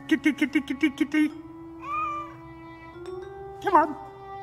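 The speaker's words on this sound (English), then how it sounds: "Kitty." A cartoon cat meows in a quick run of about eight short, bright cries, then gives a longer drawn-out mew and a final sharp yowl, close and clear with no talk over it.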